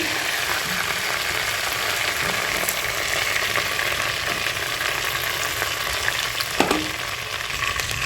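Pangas fish and potatoes fry in hot oil with a loud, continuous close sizzle and hiss, steady throughout with faint occasional clinks of a utensil.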